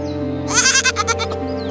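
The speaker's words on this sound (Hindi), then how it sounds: "उसके दरवाजे पर एक दूध देने वाली बकरी खड़ी है" A milk goat standing at a doorway bleats once in a loud, quavering, wavering call over a steady background hum.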